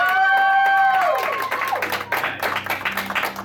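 An audience at an anime convention quiz-show game cheers for contestants, scattered clapping and crowd noise rising after a tonal jingle fades, with voices mixed in.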